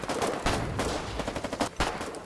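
Rapid gunfire crackles in bursts during a winter battle in the Foxhole video game, with sharp overlapping shots and brief lulls between volleys, loud and sustained throughout.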